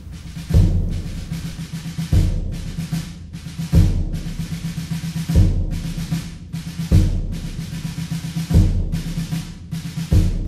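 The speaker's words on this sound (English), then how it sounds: "the first part of the drum track in the song sounds like this" Parade-style drum beat opening a song: a deep bass drum thump repeats about every one and a half seconds, with snare rolls and rattling fills between hits, steady, close and loud.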